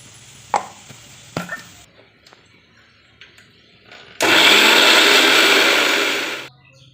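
An electric mixer grinder whirs loudly and steadily for about two seconds, grinding onion, garlic, ginger and cumin into a paste, after scattered clicks and taps of the jar being set up, then stops abruptly.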